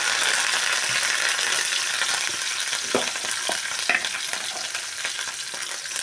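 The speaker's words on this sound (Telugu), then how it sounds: "ఇప్పుడైతే ఉల్లిపాయ ముక్కలు కూడా వేసుకుంటున్నాను. ఉల్లిపాయ ముక్కలు కూడా వేగిపోయినాయండి. కరివేపాకు వేసుకున్నాను." Onion pieces and curry leaves fry in a pan, giving a loud, steady sizzle with occasional clinks and scrapes of a stirring utensil, and no talk.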